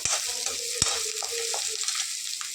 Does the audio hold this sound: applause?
no